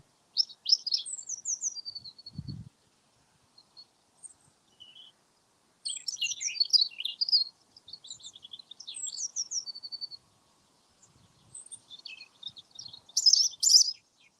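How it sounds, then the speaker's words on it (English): A robin sings clear, warbling phrases in bursts with short pauses, fairly close in a quiet outdoor setting at Brampton Old Church, with a faint thump early on. "Robin's singing just there."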